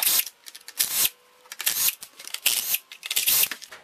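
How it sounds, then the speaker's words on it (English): Removing the recoil cover from a chainsaw with a T27 Torx driver: a run of short clicking, rattling and scraping bursts of plastic and metal handling, close and fairly loud, with brief pauses between them. "Now what I need to do is remove the recoil, and it's a T27 Torx."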